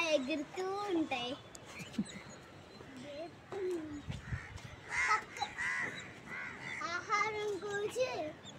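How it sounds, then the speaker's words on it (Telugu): Many crows cawing over a large city ground in the evening as they fly searching for food, repeated harsh calls near and far, with people talking in between. "ఈవినింగ్ కాకులు అలా ఎగురుతూ ఉంటాయి."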